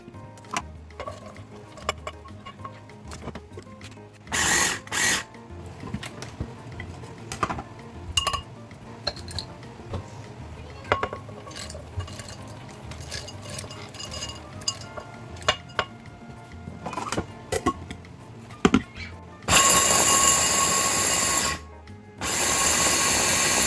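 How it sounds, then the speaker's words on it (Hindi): Chopping nuts with sunflower and pumpkin seeds for homemade panjiri in a home kitchen, heard as an electric chopper's whirring grinding bursts, some short and one longer near the end, amid light clinks and rattles, with no talking. "हम अलग-अलग चॉप करेंगे।"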